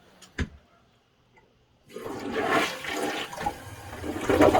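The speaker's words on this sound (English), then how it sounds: "Should we flush it one more time?" A toilet flushes after being unclogged: a brief knock, a short pause, then a loud rushing swirl of water that builds and keeps churning close by, with no talking.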